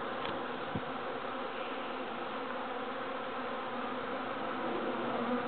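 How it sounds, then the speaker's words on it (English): A swarm of bees in a backyard makes a dense, continuous buzzing drone, steady and close throughout with no talk. "You're covered in bees."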